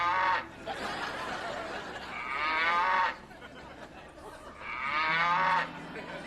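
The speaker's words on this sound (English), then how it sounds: "Is that a cow?" A cow moos twice, close behind the speaker during a TV show segment: two long, drawn-out lowing calls with a quiet gap between them.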